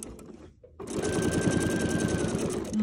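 A sewing machine running for free motion quilting, a fast rhythmic stitching whir that starts after a brief pause and keeps going steadily up close.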